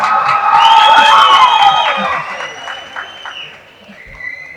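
An audience at the Viduthalai 2 film audio launch claps and whistles in a loud burst with shrill whistles that fades over a few seconds, while voices carry through the crowd noise.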